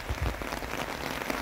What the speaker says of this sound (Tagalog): O di bonggang-bonggang ulan.